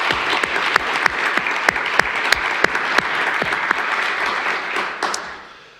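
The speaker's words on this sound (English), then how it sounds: "we should give them a big round of applause" Audience applause at an event on educational disparities in Wisconsin, a steady crowd of clapping with several sharp, close individual claps punctuating it before it tapers off at the end.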